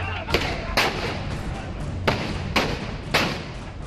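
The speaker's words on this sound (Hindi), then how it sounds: "फिर पहले गोली चलने की आवाज आती है।" Several sharp gunshots ring out at irregular intervals, loud and slightly distant, over a muffled background of commotion during a clash at a block chief election nomination in Uttar Pradesh, India.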